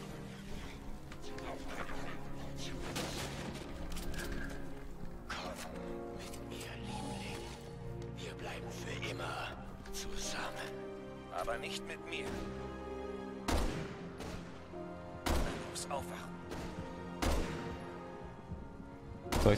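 Sharp gunshots in Resident Evil 6 crack at irregular intervals, several sharper ones bunched late, over game music and background speech.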